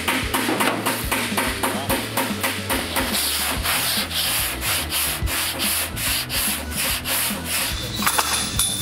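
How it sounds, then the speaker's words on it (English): Rhythmic hand sanding of body filler on a 1948 Chevy Cabriolet scrapes back and forth steadily, a close, gritty rubbing repeated in quick even strokes for the whole stretch. "Sanding and fitting this final down through here"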